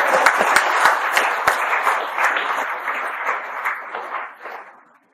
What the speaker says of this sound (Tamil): ஆகவே எல்லாரும் கைதட்டி உற்சாகமாகுங்க.